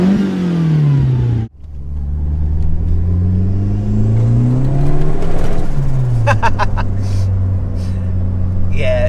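A turbocharged Ford Fiesta RS Turbo Mk3 engine revs hard and climbs in pitch, cuts out briefly, then revs up again and holds a loud, rising roar.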